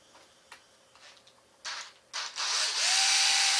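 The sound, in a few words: power drill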